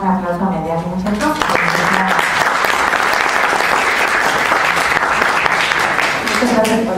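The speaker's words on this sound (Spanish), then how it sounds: "Vamos a darle un aplauso a Mellari, muchachos." An audience at a conference gives a speaker a welcoming round of applause, dense clapping swelling in after a brief spoken introduction and holding steady before fading as a voice returns.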